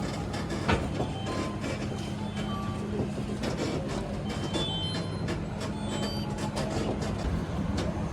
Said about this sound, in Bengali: এই তো ট্রেন আমাদের ছেড়ে দিয়েছে